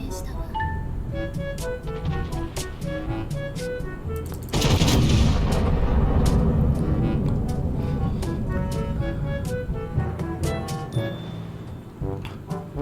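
A naval gun salvo in the warship game World of Warships sounds as a sudden heavy boom followed by a long, rolling low rumble that slowly fades, set against steady tonal game sounds.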